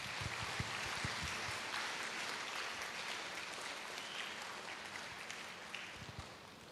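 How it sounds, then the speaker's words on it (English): Audience clapping at an innovation lab inauguration, a faint, dense wash of many hands applauding together at a distance, continuous and even throughout without talk. "So please clap for the management for the wonderful initiative that has been taken."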